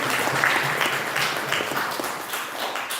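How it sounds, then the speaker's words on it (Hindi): Loud audience applause for a play's team at a question-and-answer session, a full, dense roar of clapping that holds steady for several seconds before easing slightly. "विशेषकर इनकी पूरी जो टीम है उनके लिए भी जोरदार ताली बजाएं"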